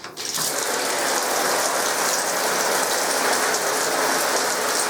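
Steady hiss of shower water spraying and pattering continuously, boosted by a pressure pump, close and fairly loud, with no voices.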